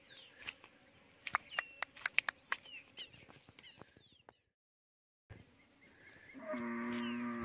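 A recently weaned dairy cow lets out a loud, drawn-out moo near the end, after scattered clicks and knocks on a farm and a brief silence.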